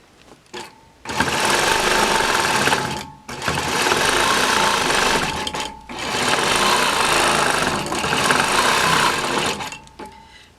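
Longarm quilting machine stitching a continuous-curve design on a pointed-star quilt block, a steady loud mechanical whir running in three long bursts separated by brief pauses, with no talking.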